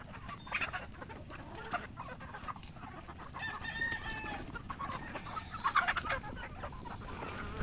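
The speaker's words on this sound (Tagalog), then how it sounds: "Kaya madaming manok ang nakakaliban sa cording area habang naghahalo si Richard ng patuka" Several chickens cluck and chatter close by in a farm's range area during feeding, with a rooster's crow rising briefly in the middle over a busy, noisy farmyard background.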